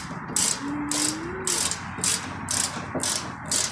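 A ratchet driving M6 screws into a VW Golf/Jetta Mk5 door lock: steady, evenly spaced bursts of close, loud pawl clicking, repeating about every half second over a low mechanical background, with no talking.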